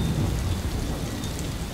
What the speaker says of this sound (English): we woke up and it was like apocalyptic thunderstorms